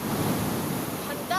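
Sea waves wash steadily onshore at Sierra Santos, Davao, a continuous loud surf roar with wind buffeting the microphone, and a brief tonal sound rising near the end.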